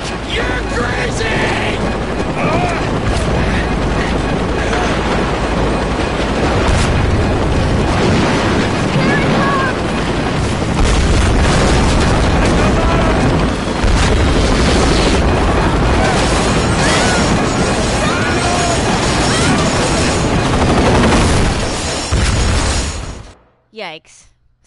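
A helicopter crashing in Tomb Raider: Definitive Edition, a long, loud rumbling roar of booms and grinding wreckage that runs for over twenty seconds before cutting off abruptly, with shouted voices mixed in.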